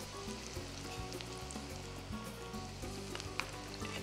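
Sesame seeds roasting in a hot pan with peanuts and onion, a steady soft sizzle and crackle running throughout with faint stirring scrapes.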